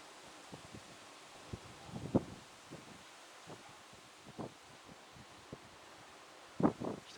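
Wind blows during a distant electrical thunderstorm over Grenoble in summer, a faint steady rustle broken by a few short gusty bursts. No thunder stands out.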